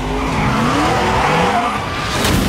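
A car in a Fast & Furious 4 film scene skids with loud, sustained tire squeal over engine roar before striking a truck, a brief crunch of impact near the end.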